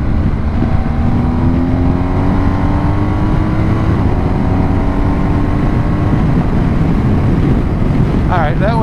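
BMW R1250GS motorcycle accelerating hard to 83 mph, a loud rising engine drone under heavy wind roar, continuous throughout.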